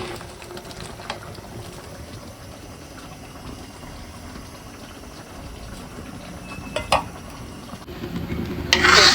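Prawns and small potatoes simmer in a pot for a rice-flour pithali, giving a steady low bubbling hiss throughout, with a couple of brief clinks near the end and a louder scraping burst in the final second.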